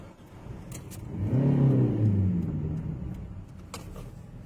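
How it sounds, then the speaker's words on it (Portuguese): A car passes along the MT-320 highway, its engine note swelling as it approaches, peaking midway and fading as it moves off, with faint clicks and roadside noise before and after. "Não, que vem outro carro."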